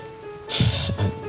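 Heavy rain poured onto a surface in a brief burst, a dense wash of patter with a couple of louder splashing hits, close and alone with no voices.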